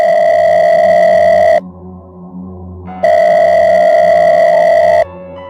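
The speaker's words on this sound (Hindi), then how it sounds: "कि पॉकेट में रखा उसका फोन बज उठा" A phone rings with a steady electronic tone in two long bursts separated by a short quiet gap, loud and close, with no talking.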